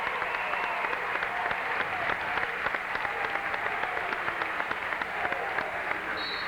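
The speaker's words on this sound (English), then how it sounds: "Katie will get a nice round of applause and a standing ovation from this crowd." A basketball crowd at a 1992 regional semifinal girls' game gives sustained applause and a standing ovation, steady and continuous, heard from across a large gym.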